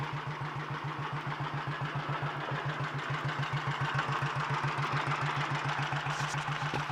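A Royal Enfield Bullet 350 G2 single-cylinder engine, freshly rebuilt, runs on a bike lift with a steady, even thumping idle, close and moderately loud throughout.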